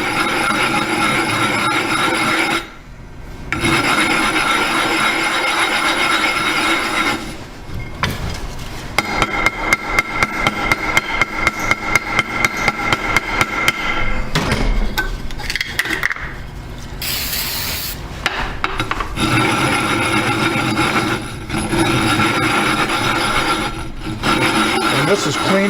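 Hone stone rubbed back and forth on wet grit to flatten and resurface it, giving rhythmic gritty scraping strokes close up, with some tapping and a run of quick rapid strokes midway.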